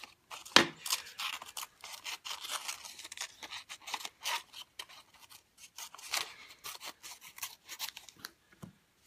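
Scissors snipping paper into mountain shapes for a handmade card, a series of irregular crisp cuts and rustles, some louder snips and quieter ones, close up with no talk.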